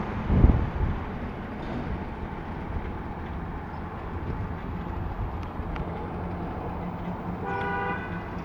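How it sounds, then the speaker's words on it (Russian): A car horn honks in a few short stacked blasts near the end, over steady road and wind noise from a moving vehicle. "Съезжаем. Сигналят. Надеюсь, не мне."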